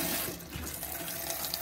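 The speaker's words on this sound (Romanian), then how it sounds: "Apă caldă, apă rece." Water runs steadily from the kitchen tap in a 2014 Carado Capron caravan with a stainless sink, a close continuous splashing stream filling the moment without any talking.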